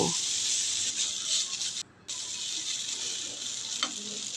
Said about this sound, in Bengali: এবার নুডলসগুলোকে একটু ভাজা ভাজা করে নেব